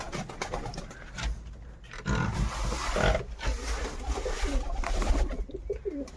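Pigeons coo intermittently against a busy, noisy background with rustling and a low rumble throughout.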